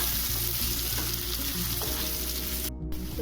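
Gatte fry in hot mustard oil with a dense, steady sizzle that stays loud and close, and a soft stirring clatter runs under it.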